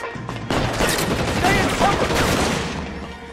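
Tommy gun firing in LA Noire, a loud sustained burst of rapid automatic fire that keeps rattling close by after a brief quieter opening.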